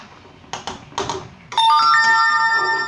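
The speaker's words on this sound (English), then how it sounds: "There's the old phone going mental." Old phone ringing loudly in a kitchen while spring rolls are being prepared, a sustained electronic ring starting abruptly after a few soft clatters and continuing steadily to the end.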